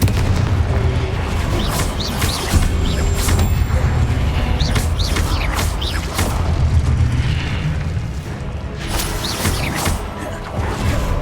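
The Confringo fire spell explodes again and again in the video game Hogwarts Legacy, with deep rumbling booms and crackling blasts in a loud, continuous barrage.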